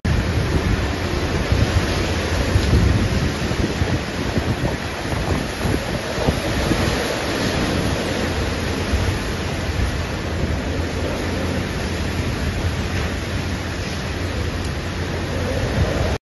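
During a typhoon, strong wind roars and rain beats down nonstop as roofs are torn away, leaving a dense, loud, unbroken rush of storm noise with no speech.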